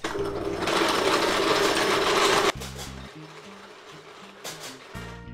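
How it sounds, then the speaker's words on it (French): An electric blender crushing Oreo cookies whirs loudly for about two seconds, then cuts off, followed by quieter intermittent mechanical rattling and buzzing. "j'avais pas branché le mixeur,"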